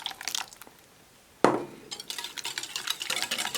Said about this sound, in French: On met dans le saladier les 3 œufs avec le sucre et on mélange.